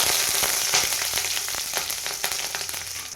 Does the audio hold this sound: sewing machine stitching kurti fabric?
no